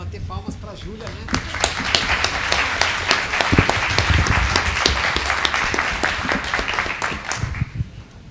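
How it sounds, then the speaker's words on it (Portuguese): An audience at a project launch meeting claps, a steady burst of applause from a room full of people with a few voices murmuring underneath before it fades out. "Bater palmas para a Júlia, né?"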